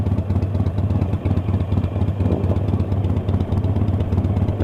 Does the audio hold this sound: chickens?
no